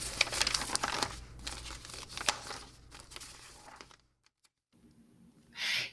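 A paper form being handled and crinkled up close, with bursts of crackling and rustling that stop abruptly into near silence, followed by a faint low sound and a brief noise at the end.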